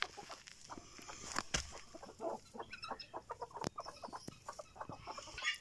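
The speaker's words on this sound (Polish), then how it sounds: "Proszę bardzo, tutaj mamy koguta Stefana" Clucking from a rooster, a string of short, close clucks with a few sharper calls and some scuffling sounds in between.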